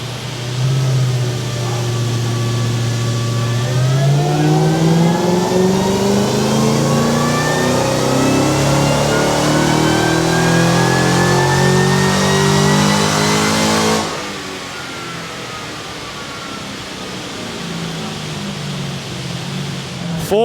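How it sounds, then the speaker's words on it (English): A supercharged 5-litre Ford engine revs on a dynamometer, the loud rising tone climbing steadily with a high supercharger whine for about fourteen seconds, then dropping away into a lower steady drone. "Cartel's supercharged 5 litre. Sounds mint, and that supercharger whine is something else."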